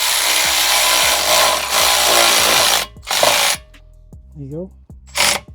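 A power tool tightens a bolt on the rear brake of a 2015 Volvo XC60. Loud whirring bursts are broken by pauses with a few clicks, and someone speaks briefly between them.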